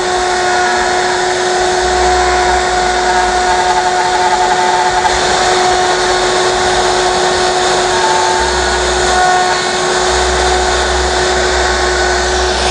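A Festool router plunge-cuts into wood for a SOSS hinge, a loud, continuous high whine that holds steady for the whole stretch, with low rumbling shifts as the cut deepens.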